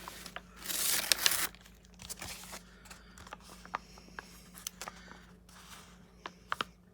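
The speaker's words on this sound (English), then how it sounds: "I'm just gonna peel the tape and see what that looks like" Tape peeled off vellum paper in a papercraft layering project: a loud crinkly tearing rip early on, followed by faint scattered ticks and light paper rustles in a quiet room.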